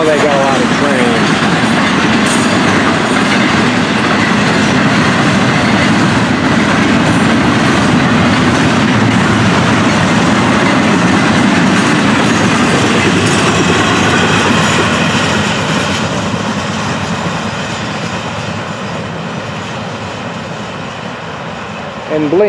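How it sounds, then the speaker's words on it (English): A Florida East Coast Railway train rumbles past on the tracks at sundown, loud and steady with rattling wheels and a broadband roar, fading slightly toward the end. "Wow, they got a lot of trains."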